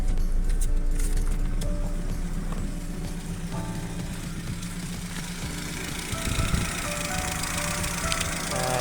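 A Chevrolet Aveo engine idles with a cylinder misfire, giving a steady, close mechanical running noise with uneven, rough pulsing.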